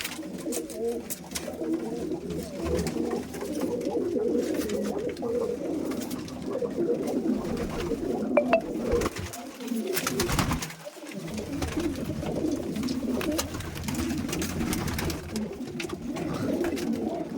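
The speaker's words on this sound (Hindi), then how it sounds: "ये कलपरा कबूतर है" Pigeons kept by a pigeon fancier coo repeatedly in low, soft rumbling calls, several birds at once, close by, with faint background noise and a brief quieter gap partway through.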